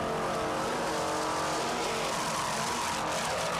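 Racing powerboat with two 600-horsepower Troy Dennis inboard engines, B class, South Padre Grand Prix 1994: a steady, loud, full-throated engine roar holding for a few seconds with no talk over it.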